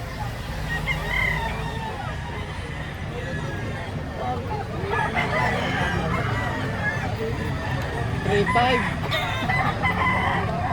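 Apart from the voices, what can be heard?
rooster crowing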